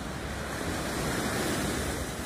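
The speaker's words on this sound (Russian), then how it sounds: "Море качается, так сказать." Gentle sea waves roll onto the shore along a waterfront promenade in Mersin, Turkey, on a nearly calm winter day, a steady soft wash of surf with light wind noise, no voices.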